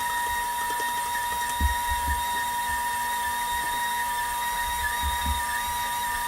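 A steady mechanical whir from a stand mixer kneading doughnut dough runs throughout, with occasional low thumps as the dough forms a ball in the bowl; no one speaks.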